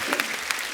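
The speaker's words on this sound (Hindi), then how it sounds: "इनके लिए जोरदार ताली हो जाए यार।" Brief burst of applause for actor Ashish Vidyarthi, a dense crowd clapping at steady volume with a few sharper claps standing out, no voices over it.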